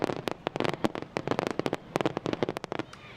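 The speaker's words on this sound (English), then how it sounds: "the fireworks last night along the National Mall drew thousands of people" Fireworks pop and crackle along the National Mall at a public celebration, a dense rapid string of sharp bursts with no talking.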